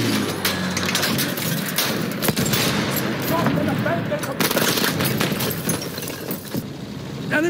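Machine gun fire rattles through a Battlefield 1 conquest battle, dense bursts of gunfire and scattered shots continuing throughout, with game voice callouts heard over the combat.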